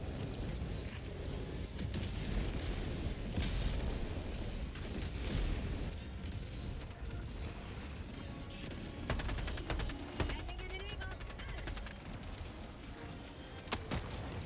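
Orbital barrage in the game Helldivers 2, a dense continuous roar of rumbling explosions and booms with sharp crackling blasts near the end, loud and sustained without talk.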